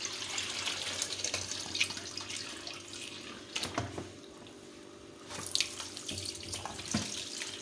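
Water pours and splashes out of a container nearby in uneven gushes, pausing briefly, then sloshing again with a few clunks.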